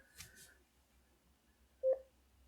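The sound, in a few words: Bluetooth pairing tone of ZOER X5 alarm clock speaker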